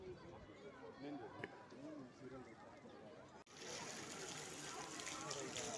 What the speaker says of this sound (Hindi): ये पानी का एक झरना बना हुआ है यहाँ पर पास में ही।